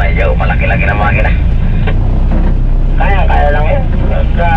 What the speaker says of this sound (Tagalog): Medyo malaki-laki na makina.